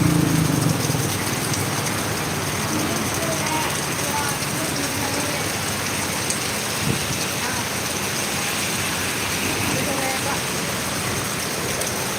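Heavy evening rain pours steadily over a town, a loud dense hiss of drops hitting surfaces that continues unbroken throughout.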